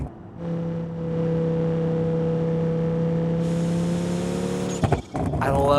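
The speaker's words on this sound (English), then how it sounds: "I love the turbo noises too," A turbocharged inline-five ETK I5 car in BeamNG.drive hums at steady engine revs with a faint whistle, joined midway by a high turbo whine and ending in sharp blow-off chuffs and bursts.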